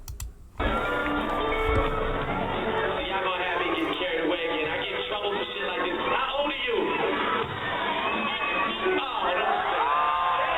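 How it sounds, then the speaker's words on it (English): A crowd cheers and roars wildly throughout, a dense, continuous wall of shouting and whooping from a large audience, heard through a low-quality recording with a cut-off high end. "The crowd is going wild."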